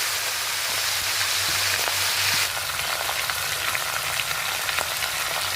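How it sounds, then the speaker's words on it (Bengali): Vegetables frying in a hot pan after fish was fried in it, a loud, dense, continuous sizzle close up with faint stirring clicks, no talk. "এখন তরকারিগুলো ভেজে কষিয়ে নেব। আমি এখন সবজিগুলো সব দিয়ে দিচ্ছি।"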